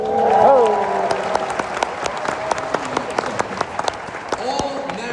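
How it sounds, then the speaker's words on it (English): An audience at a stand-up comedy show in Columbus breaks into applause, a dense wash of clapping that swells early and then holds steady with sharp individual claps standing out, while a voice speaks over it. "All marriage year numbers obligate audiences to applaud for it."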